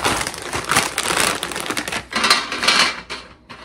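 Pretzels are spread across a nonstick cookie sheet, making a steady dry rattling and crinkling clatter in close, irregular bursts with no talking.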